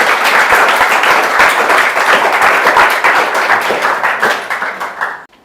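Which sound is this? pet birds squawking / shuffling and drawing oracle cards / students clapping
students clapping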